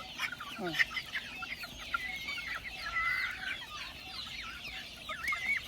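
Chickens clucking steadily, several birds at once, with busy overlapping calls at close range over a faint outdoor background.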